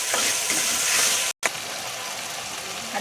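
Tomatoes with salt sizzle and fry in a pan while being stirred, a steady close hiss broken by a brief gap and a scrape of the spoon.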